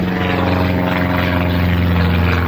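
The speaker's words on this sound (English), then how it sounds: "Oh, plane. There he goes." A small plane passing overhead gives a loud, steady propeller drone that holds constant throughout, with no talking.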